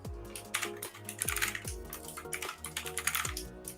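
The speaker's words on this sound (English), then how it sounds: "Just typing in a password." Rapid, irregular keystrokes on a computer keyboard as a password is entered, a steady run of close, crisp clicks and taps with no talking.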